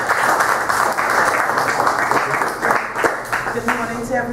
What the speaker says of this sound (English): Let me hear another round of applause.